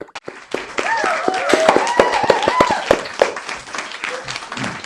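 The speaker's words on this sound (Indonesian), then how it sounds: "Tepuk tangan semuanya" An audience at a student-admissions seminar at Sekolah Tinggi Ilmu Tarbiyah Fatahillah claps for the newly introduced admissions chair. Sharp, scattered claps ring out over a murmur of voices and tonal sounds, then taper off.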